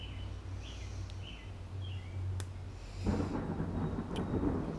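Thunder rumbling outdoors during a storm, a faint distant roll that swells into a broader low rumble toward the end, with a few birds chirping lightly and no talk.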